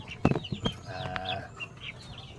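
Chickens clucking and squawking close by in a farmyard, a cluster of sharp, excited calls and a few shorter clucks, fairly loud against light background noise.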